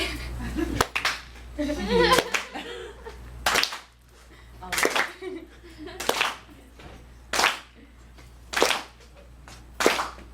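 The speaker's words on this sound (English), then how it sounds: "if I could get some claps" At a ladies' night music event, an audience claps along in a slow, steady rhythm, sharp evenly spaced claps ringing out loud after some opening talk and laughter.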